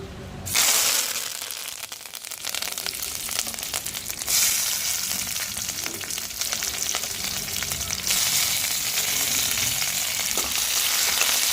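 Tomatoes, green chillies and curry leaves fry in hot oil, a steady loud sizzle that runs the whole time with stirring scrapes and crackles, swelling in bursts near the start and again midway.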